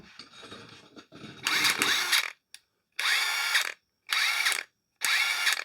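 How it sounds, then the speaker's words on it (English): A mid-range half-inch impact wrench runs in several loud, sustained bursts with short silent gaps between them, preceded by lower, rougher mechanical noise. "that's just to compare it to a mid-range half-inch impact."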